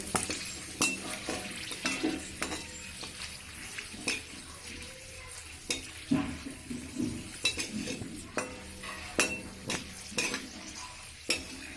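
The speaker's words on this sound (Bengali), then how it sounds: "আর এখানে 3-4টে গোটা শুকনো লঙ্কাও ভেজে নেব" Soft sizzling of whole dried red chillies frying in oil, punctuated by repeated taps and scrapes of a spatula against the pan.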